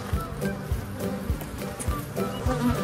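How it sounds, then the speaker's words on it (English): Honey bees buzzing around an opened hive box during hive care, a steady insect hum with intermittent thumping from handling the box in the foreground. "Great, the bees left the box."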